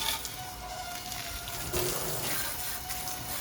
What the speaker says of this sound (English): I don't know why the hose is making that noise